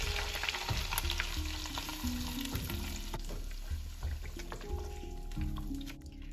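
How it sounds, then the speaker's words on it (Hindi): Hot tempering (baghar) is poured into saag gosht, a spinach and mutton curry, and stirred in, giving a steady close sizzle and frying hiss with scraping under a continuous tonal background. "साथ ही ये जो आपने बघार बनाया ये आप इसमें डाल दीजिए।"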